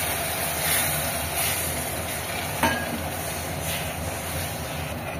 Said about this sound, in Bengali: এই স্টেপে এবার জলটা দিয়ে দেবো। জলটা দেওয়ার সময় একটু আস্তে আস্তে নাড়াচাড়া করতে হবে।